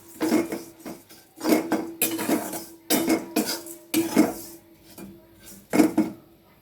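Flattened rice (chire) fried in a pan for muri ghonto, heard as rapid repeated scraping and clattering of a metal spatula against the pan in irregular bursts, close and loud, with no talk.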